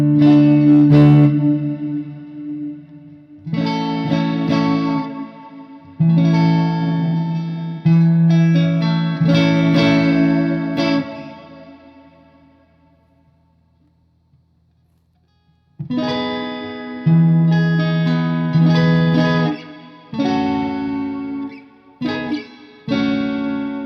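Electric guitar played through a reverb effects pedal, a few melodic phrases and chords ringing out with long washy tails, a quiet pause in the middle, then more strummed and picked passages, close and loud, no talking.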